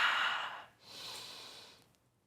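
Deep breaths taken during a yoga practice, a close, soft, airy inhale followed by a longer, gentler exhale, with no talking.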